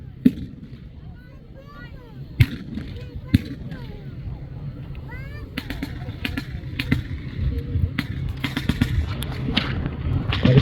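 Blank rifle shots crack at close range during a military vehicle reenactment battle with burning vehicles, sounding as scattered sharp reports over a steady rumble of crowd and ambient noise while someone narrates throughout.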